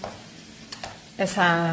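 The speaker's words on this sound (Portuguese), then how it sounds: "Depois que esse tomatinho tiver fervendo bem ali, a gente coloca o leite de coco" Chopped tomatoes simmer and sizzle in a pan while a banana moqueca is cooked, making a soft, continuous crackling hiss with a couple of light stirring taps. A person starts talking over it near the end.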